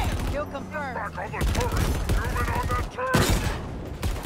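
Warthog gunner in Halo firing a rapid-fire turret at enemies, fast bursts of gunfire close by with sharp impacts, mixed under lively talk.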